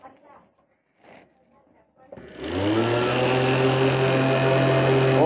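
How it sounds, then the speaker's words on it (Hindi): A homemade 12V table fan built from an RO DC motor starts up after a few seconds of talking, then spins fast with a loud, steady, high whirring hum that keeps rising slightly in pitch. "देख सकते हैं काफ़ी ज़्यादा स्पीड हो गया इसका, फैन इतना ज़्यादा घूमने लगा है"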